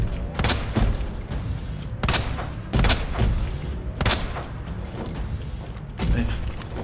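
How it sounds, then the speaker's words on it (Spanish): Gunfire in the video game Resident Evil 2 Remake: a series of loud, punchy shots spaced about a second apart, each with a booming low thud and short decay, over quiet game ambience. "se trata de no fallar los disparos"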